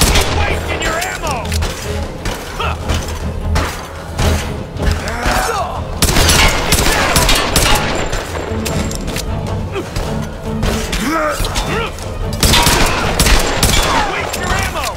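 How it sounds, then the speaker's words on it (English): Sustained machine gun fire in Tomb Raider (2013), a loud, close, continuous rattle of bursts with thuds and impacts, and a voice speaking at times over the shooting. "I switched to the machine gun"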